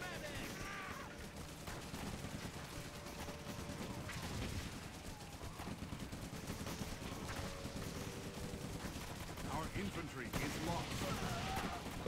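Sustained gunfire and battle noise in the WWII strategy game Blitzkrieg 3 as troops come under fire, a dense rumble of shots and explosions running throughout with voices talking over it.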